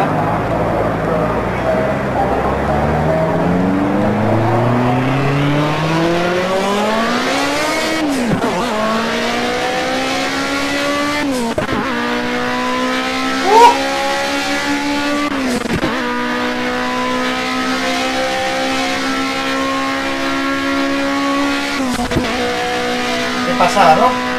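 A race car engine in the video game Project Cars at Mount Panorama revs up through the gears, a loud continuous whine that drops sharply at each shift, with faint voices underneath.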